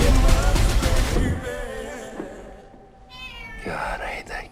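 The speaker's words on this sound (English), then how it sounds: "God, I hate that cat." A cat meows in a couple of drawn-out calls after people talk, fairly close and clear against a quiet background.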